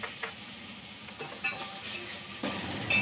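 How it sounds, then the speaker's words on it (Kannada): Tomatoes frying in a pan for drumstick sambar, with soft sizzling and a few stirring scrapes, moderately close with no one talking. "ಒಂದು 5 ನಿಮಿಷ ಟೊಮೆಟೊ ಫ್ರೈ ಮಾಡ್ಕೊಳ್ಳೋಣ"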